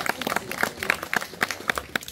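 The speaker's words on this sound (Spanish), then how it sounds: "Un fuerte aplauso para esta alumna." Applause at a rural middle school graduation ceremony in Mexico, short uneven clapping from a modest crowd, fairly close, with sharp individual claps standing out.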